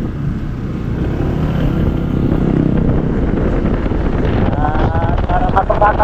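A motorcycle being ridden to a sidecar workshop, its engine droning steadily under heavy wind buffeting on the microphone, continuous and close throughout.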